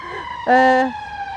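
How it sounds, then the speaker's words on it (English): A brief, loud ambulance siren tone rises sharply and cuts off within a second, heard near and alone as the ambulance passes a garden in Edinburgh. "Perfect timing for an ambulance to be going by"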